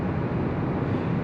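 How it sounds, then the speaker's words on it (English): Steady broadband wind and road noise fills the cabin of a 2023 Hyundai Venue Limited at highway speed, a constant close rush with no voices over it. "Lots of wind noise, road noise."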